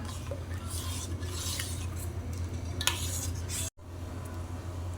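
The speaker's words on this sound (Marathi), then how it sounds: "गूळ चांगला वितळेपर्यंत ढवळून घेऊया" A spoon stirs jaggery melting in a pot, making continuous scraping and rubbing against the pot with small clinks, ending in a brief silent gap before the stirring resumes; no talking.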